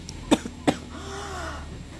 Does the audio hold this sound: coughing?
yes